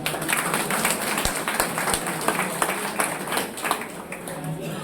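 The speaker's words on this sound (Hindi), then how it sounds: "तालियां बजा दी।" Many people at a Delhi group meeting clap together in a dense, continuous burst of applause during an exercise session, with a few sharper taps standing out.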